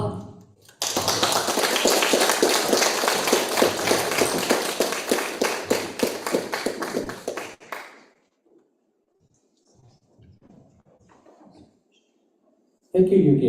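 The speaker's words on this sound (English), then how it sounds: "let's give our guest speaker, Dino Pape, a huge TEDx applause" A TEDx Youth audience applauds guest speaker Dino Pape, a loud, dense burst of many hands clapping that lasts about seven seconds, then fades into near silence before a brief sound at the end.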